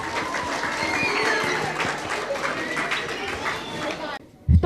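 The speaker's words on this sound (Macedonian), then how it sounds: "Еден аплауз." Audience at an Easter table event at a school applauds continuously, a dense, fairly loud wash of clapping with chatter mixed in, ending abruptly.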